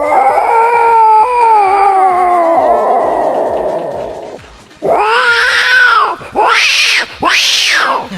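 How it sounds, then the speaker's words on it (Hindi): Two cats yowl and wail at each other, a long drawn-out moaning growl rising into loud, sharp screeching bursts near the end. "जैसे एक बिल्ली के घर में दूसरी बिल्ली घुस गई, अब जिस बिल्ली का घर था उसने देख लिया, वो टूट के पड़ गई"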